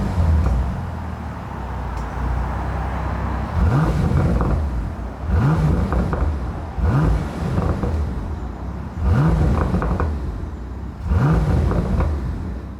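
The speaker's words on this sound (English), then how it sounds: "I'm sure you guys want to see what this W12 sounds like" A Bentley Continental GT W12 in sport mode is revved while parked, five distinct rising and falling revs spaced about two seconds apart over a steady idle, loud and close with no talking.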